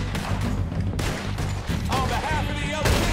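Dense, continuous gunfire in Red Dead Redemption 2, shots overlapping under heavy low rumble and game music or ambience throughout, with a voice faintly present.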